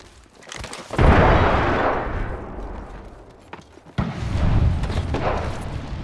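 In Apex Legends, a missile strike produces a heavy boom that slowly decays, then a second sharp blast and rumble follows a few seconds later, both loud and close.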